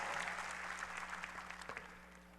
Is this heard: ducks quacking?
no